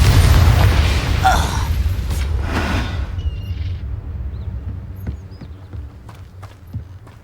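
A Confringo fire-blast spell in Hogwarts Legacy goes off as a loud, heavy boom with a thumping low rumble, followed by fainter game effects, pops and scattered clicks during a wand duel, with a voice shouting over it.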